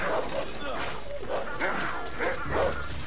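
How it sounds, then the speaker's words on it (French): Wolves in Assassin's Creed Odyssey yip and bark in short bursts at mid distance, while someone talks over them. "C'est qu'il y a des loups là qui l'embêtaient."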